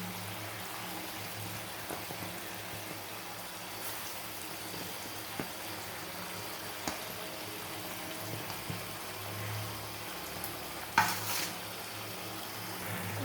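Chicken pieces frying in a pan give a faint, steady sizzle with occasional scraping stirs and a sharper clink near the end, without any talking.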